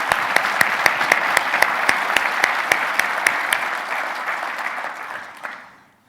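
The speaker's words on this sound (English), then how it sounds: "we could give a round of applause to all of our CIOs" Conference audience at a large cloud technology event applauds its CIOs, a dense, steady wash of clapping with sharp individual claps on top that holds for several seconds before fading out, no voices over it.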